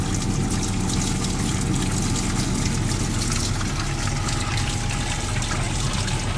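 Water rushing steadily through a slightly opened valve on a laboratory venturi meter rig, a continuous loud hiss and gurgle with a low pump-like hum underneath, unbroken throughout.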